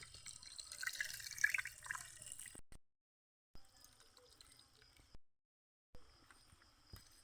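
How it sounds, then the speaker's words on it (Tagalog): Strained coconut milk drips and trickles in a soft, close, uneven patter, stopping twice in short bursts of silence. "kanya na pong sasalain ng gata"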